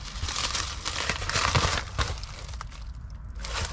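Knife slicing open a cardboard shipping package of car parts, giving close, loud crinkling, scraping and tearing noises that run without a break.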